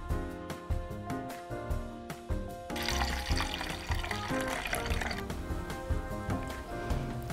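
Water is poured into a pot while masala chai is made with water and milk, starting with a few sharp kitchen clinks and then a steady splashing pour that fills the rest of the clip, with no talk.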